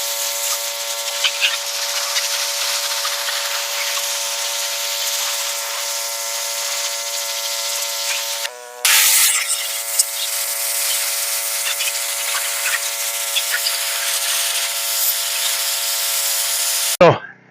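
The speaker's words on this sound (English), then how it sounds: "fire up the pressure cleaner" A pressure washer blasting meat and silver skin off an animal hide, a loud, continuous high-pitched hiss and spray that cuts out briefly midway, then resumes steadily until it stops at the end.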